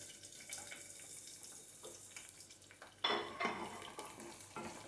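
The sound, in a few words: onions frying in oil with beef tongue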